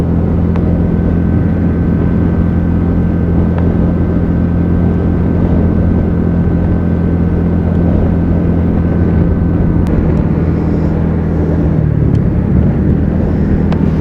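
A TVS NTorq XT 125 scooter on a morning ride drones with a steady, loud engine note under heavy wind rush, holding an even tone throughout with a slight shift near the end.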